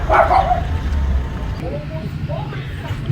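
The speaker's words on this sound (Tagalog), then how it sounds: "Wow, may aso guys." A dog barks and yips a few times in the opening half second, fairly near and loud, then softer whimpering yelps follow over steady low street rumble in a developing residential subdivision.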